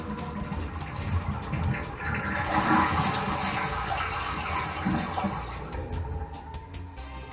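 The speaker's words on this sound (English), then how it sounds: "After we turn off the water, we're going to flush it." A toilet flushes in a single sustained rush of water over several seconds, a full tank draining loudly and steadily into the bowl while the supply is shut off during a wax ring replacement.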